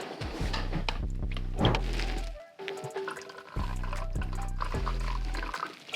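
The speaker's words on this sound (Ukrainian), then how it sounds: "Так, додаємо затверник. Так, обов'язково перемішуємо." Hardener being poured into clear coat car lacquer and stirred, with wet liquid squishing and sloshing in a container, two sustained stretches separated by a brief pause, close and fairly loud.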